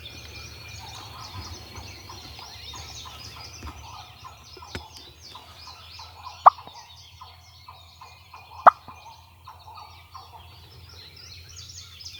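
Wild turkeys in late season gobbling and chattering outdoors, a repeated fluttering call rising and falling at mid distance, with a few sharp close clicks and a low rumble underneath.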